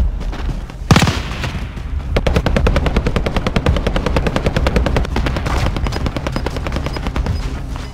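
Rapid automatic gunfire in the video game Call of Duty Warzone, with one loud blast and then sustained bursts of close, fast shots for several seconds.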